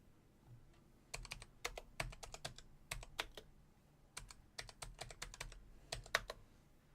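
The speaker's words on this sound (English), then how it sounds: "let's type in the Kodak Brownie" Bursts of keystrokes on a computer keyboard, clattering in quick clusters separated by short pauses, close and moderately quiet over a faint room hum, with no voices.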